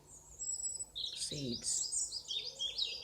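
Morning birdsong drifts in from outdoors, a string of bright chirps and warbling calls at moderate distance over a soft ambient hiss, with a brief low murmur partway through.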